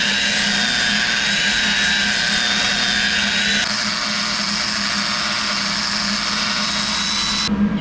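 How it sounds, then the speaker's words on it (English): An angle grinder works steadily on metal, stripping paint before welding, giving a loud, continuous high-pitched whine and hiss that shifts pitch slightly partway through without pause. "it's kind of tough to get an angle grinder in there to clean up all the paint"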